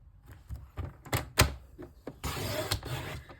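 A paper trimmer slices A4 cardstock with a series of clicks and thunks, then a longer scraping cut, close and moderately loud with no talking.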